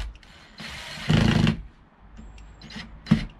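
A power screwdriver drives screws into a camper van curtain kit on a VW T5: a short whirring burst, then brief mechanical clicks and a final quick buzz, close and alone.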